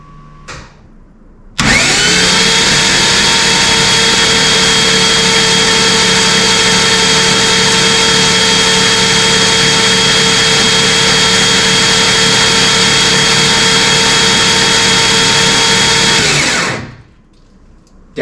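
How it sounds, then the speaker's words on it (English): Ignition coils firing on a freshly built turbo engine with a forged block and new turbo kit, spark plugs out: a loud, steady buzzing drone starts abruptly and holds for about fifteen seconds before cutting off, with no talk. "Definitely my coil's firing."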